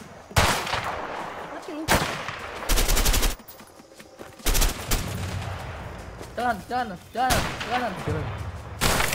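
Bursts of gunfire from a video game shooter, several loud rapid volleys separated by brief gaps, with excited voices talking between and over the shots.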